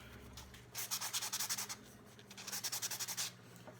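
Bent sandpaper rubbed around a small glittered craft piece in two bursts of quick back-and-forth strokes, close and fairly soft, with no talking.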